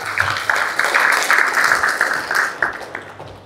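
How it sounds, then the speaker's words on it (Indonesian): Listeners at an Islamic motivational talk for Astra Honda Motor staff break into brief, uneven clapping, close and fairly loud, thinning out over a few seconds with faint voices mixed in. "Tepuk tangan dong boleh ya."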